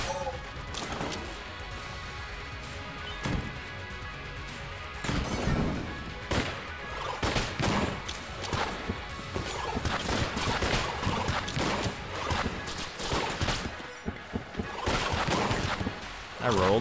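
Rapid, uneven bursts of gunfire from an inaccurate gun in the bullet-hell game Enter the Gungeon, sharp repeated shots over dense game noise and music, with a voice talking in places.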